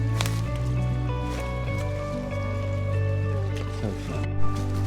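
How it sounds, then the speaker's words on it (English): Footsteps squelching through shallow water on a woodland walk while foraging for morels, steady wet squishes and splashes close by, with a strong low hum and tonal background noise running underneath. "Oops, I stepped in the water again."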